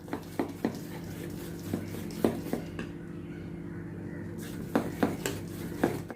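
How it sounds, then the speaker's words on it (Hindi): Khaman dhokla batter with soda is whisked in a bowl, producing scattered light clinks and taps of utensil against the bowl over a steady low hum. "और इसको अच्छी तरह से बैटर को अभी मैं मिक्स करती हूँ ताकि ये अच्छी तरह से ये फ्लफ़ी हो जाए"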